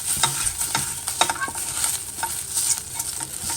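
Coconut roasting in a dry pan for dry-fruit laddu, stirred briskly with repeated scraping strokes over a light crackling sizzle, close and uneven in rhythm, no one speaking.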